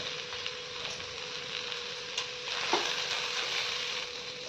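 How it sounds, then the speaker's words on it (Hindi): Tomato chokha with coriander leaves fries in a pan, giving a steady hissing sizzle with a few light stirring scrapes and one brief louder clink. "अब मेरा ये चोखा फ्राई हो गया है इस तरह से।"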